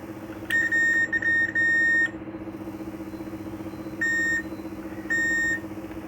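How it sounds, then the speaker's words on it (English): A multimeter's continuity buzzer beeps as its probes touch pins of an IC on an HP laptop motherboard (La-d703p) with a failed CPU: a few short broken beeps at first, then two separate half-second tones over steady background hum. "if we check the pin number 14 here, we are getting a beep sound"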